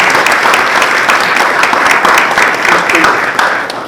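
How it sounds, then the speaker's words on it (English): Audience at a school district board of education meeting applauds students, a loud, dense round of clapping that carries steadily throughout with a few voices mixed in. "Let's give them a nice round of applause."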